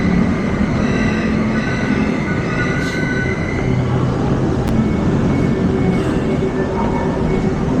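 An LRT train riding its rails, heard from on board: a loud, steady rumble of wheels and car noise throughout, with occasional brief squeals and clicks.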